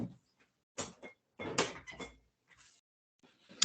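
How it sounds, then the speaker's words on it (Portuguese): A door being shut produces a series of close, sharp knocks and thuds in separate bursts, with quiet gaps between them and a final clunk at the end. "Deixa eu fechar a porta aqui rapidinho."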